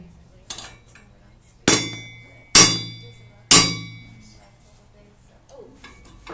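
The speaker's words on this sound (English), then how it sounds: "Can you hammer in there?" Hammering at a tool repair workshop: four sharp metallic strikes, loud and close, spaced about a second apart with ringing decay, plus one lighter tap before them and faint talk around them.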